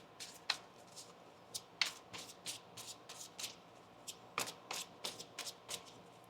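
Tarot cards being riffled and shuffled by hand in a quick series of crisp, papery bursts, close up and alone, with short pauses between shuffles.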